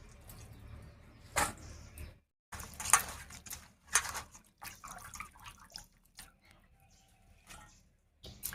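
Large chunks of chopped cabbage being rinsed clean in water, faint splashes and drips in irregular bursts at close range, quiet overall with no talk.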